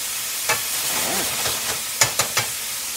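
Mahi mahi searing in a hot pan gives a steady broad sizzle and hiss up close, with a few sharp utensil taps near the end and no talking.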